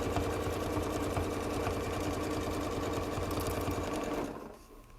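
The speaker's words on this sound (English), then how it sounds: "And then I'm going to move and stitch." A Janome sewing machine runs a continuous fast stitching rattle, close and steady, then winds down and stops near the end.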